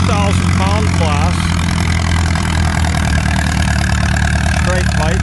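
An antique Farmall Super C tractor with a straight pipe, narrow single-wheel front and 3,000-pound class, runs at a tractor pull, its loud, steady engine roar constant throughout while a voice speaks over it.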